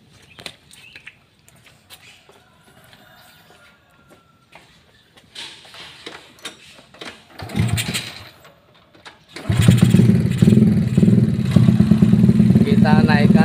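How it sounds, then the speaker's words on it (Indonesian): A motorcycle engine fitted with a PE28 carburetor is cranked and catches after quiet shuffling and brief attempts, then settles into a loud, steady close-range idle with a rattly edge, and a voice is heard over the early part. "kita menghidupkan motornya dulu"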